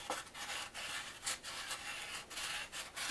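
Rhythmic rubbing and scraping as a coat hanger tool works an aluminum car body panel back and forth from inside, a steady series of rasping strokes at close range with no talk.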